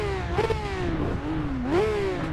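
A Porsche 992 engine in the Assetto Corsa EVO racing game revs up, eases off and climbs again in a steady, loud pull with a rising and falling engine tone and no talk.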